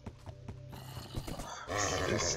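A horse in the Minecraft video game gives a loud whinny at the end, preceded by a few quick clip-clop hoof steps and soft rustling.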